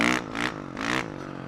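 A four-stroke dirt bike engine on dirt drops off as the throttle is snapped shut, with loud pulsing bursts of engine noise and a scraping clatter close by that fade near the end.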